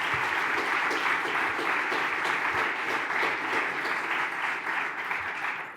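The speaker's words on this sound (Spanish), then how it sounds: "vamos a darnos un aplauso al talento LGTBI" Audience at a corporate event on LGBTI talent breaks into sustained applause, a dense wash of many hands clapping that holds steady and fades slightly at the end, with no one speaking over it.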